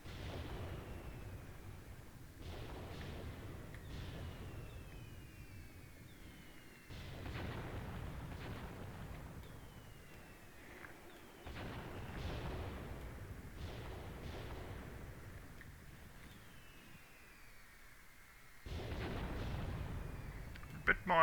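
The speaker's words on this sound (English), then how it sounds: "here come my next mortars" Mortar rounds firing and exploding in the war game Graviteam Tactics, a series of muffled distant booms and bursts spread irregularly over twenty seconds, fairly faint.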